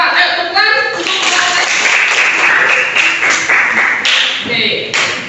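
A classroom of students claps together in a burst of applause, loud and close, with scattered voices and cheers mixed in throughout.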